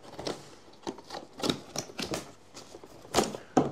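A yogurt fermenter box is opened and unpacked, with quiet, irregular clicks, taps and crinkling plastic rustles in short bursts at close range.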